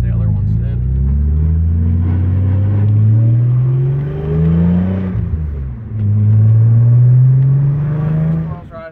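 A car on Solowerks coilovers, an Audi B5 S4, drives over town bumps, its engine droning and rising and falling in pitch while someone talks over it.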